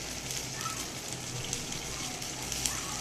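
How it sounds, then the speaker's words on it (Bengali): Pilau rice simmering in a pot with a little oil from fried prawns, giving a steady soft bubbling and faint sizzling hiss, quiet and close, with no talk. "কত সুন্দর ফুটতে আছে।"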